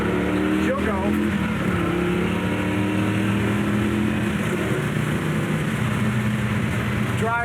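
A 1966 Chevelle pulls away under throttle, its engine roaring loudly and steadily close by while a voice talks over it.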